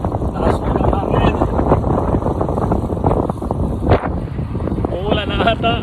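On a motorcycle ride, heavy wind pounds the microphone in a constant, loud, rumbling rush with a few sharper gusts, and a voice can be made out through it near the end.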